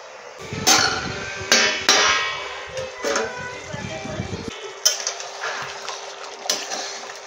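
A metal lid is set onto a cooking pan of Bengali prawn malai curry, giving several sharp clinks and clatters spaced a second or so apart, close and fairly loud, each fading quickly over a quiet kitchen background.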